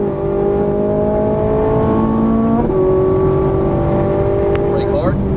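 Ferrari 458 Italia engine accelerating on a race track, a loud continuous rising whine with a gear shift midway, heard from inside the car under an instructor's talk.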